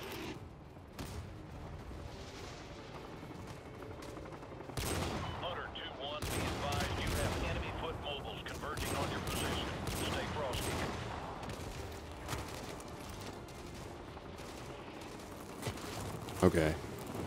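Battle gunfire in Modern Warfare 2 Remastered, continuous crackling bursts and volleys with occasional heavier booms, steady and fairly loud throughout under intermittent voices.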